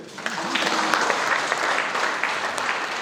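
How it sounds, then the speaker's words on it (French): Congregation applause during a baptism at Saint-Roch church: loud, sustained clapping from a large group that builds quickly and holds evenly, with a faint voice briefly audible near the start. "Applaudissons pour les Seigneurs."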